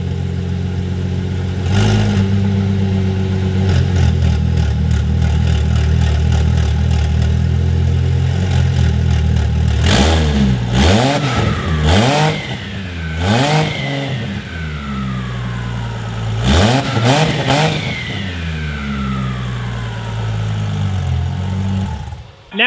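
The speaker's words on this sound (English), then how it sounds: "Ford Falcon with the max beating rods GT45 Turbo. Let's hear it." A Ford Falcon engine fitted with a GT45 turbo revs hard and loud, with repeated sharp throttle blips rising and falling over a steady rumbling idle and a whirring turbo, heard up close with no talking.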